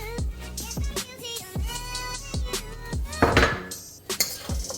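Fried rice being stirred in a pan for Nigerian fried rice with tofu cutlets, a run of irregular metallic scrapes and clanks from the utensil striking the pan, close and fairly loud.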